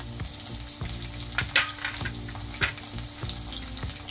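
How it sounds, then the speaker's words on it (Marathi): Crushed garlic cloves and green chillies fry in a couple of spoonfuls of hot oil, giving a soft constant sizzle broken by regular scraping strokes of a spoon in the pan. "तेल गरम झाले, त्याच्यामध्ये 7 ते 8 लसणाच्या पाकळ्या ठेचून घेतलेल्या आहेत त्या टाकले।"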